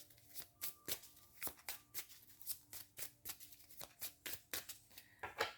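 Tarot cards are shuffled by hand and drawn, a quiet, close series of crisp riffling and slapping bursts in an uneven rhythm, about a dozen in quick succession.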